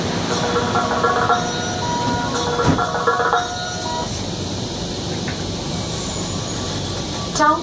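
Interior of a moving Kochi Metro train, with a steady rumbling ride hum, faint rattles and a soft electronic chime or beep near the end, carrying on at an even level.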